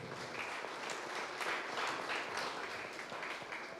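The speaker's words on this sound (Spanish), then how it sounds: "vamos a darle un fuerte aplauso" An audience at a university conference gives steady applause, many hands clapping together at moderate distance for a few seconds, fairly faint and even without a clear peak.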